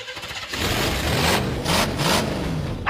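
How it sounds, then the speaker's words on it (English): An old car engine turns over and roars to life, rising and surging in loud, rough revs after a quieter opening moment. "and the roar of a classic old engine"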